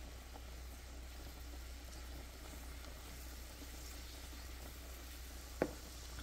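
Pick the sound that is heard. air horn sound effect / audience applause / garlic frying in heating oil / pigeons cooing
garlic frying in heating oil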